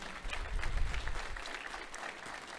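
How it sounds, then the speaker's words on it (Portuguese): Brief, full applause from a church congregation, a dense patter of many hands close by that swells early and then holds steady before easing off. "Merece aplausos, gente, para a glória do Senhor."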